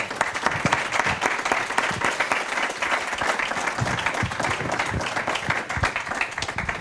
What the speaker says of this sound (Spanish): aplaudimos a nuestro ponente